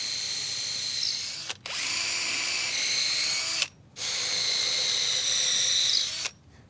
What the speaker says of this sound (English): when I drill through the sleeper